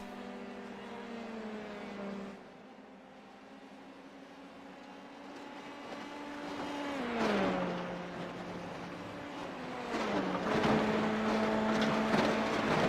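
Formula 3 race cars in a sim race, engines whining steadily with pitch dropping and climbing through gear changes and corners, growing louder toward the end with a gritty tire-scrub texture beneath.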